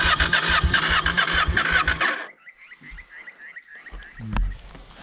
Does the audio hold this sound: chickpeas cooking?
no